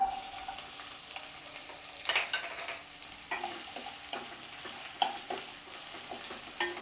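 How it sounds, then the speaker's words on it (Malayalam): Two medium onions frying with cumin seeds in hot oil make a constant gentle sizzle, with occasional spatula scrapes and clicks against the pan at irregular intervals. "ജീരകം ഒന്ന് ചൂടായി വരുമ്പോഴത്തേക്കും ഒരു 2 മീഡിയം സൈസ് സവാള ചേർത്ത് കൊടുക്കാം"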